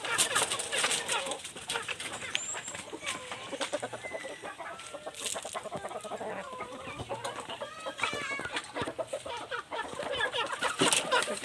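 White Kelso chickens and their chicks cluck and peep busily close by, a dense, continuous chatter of overlapping calls and clucks throughout.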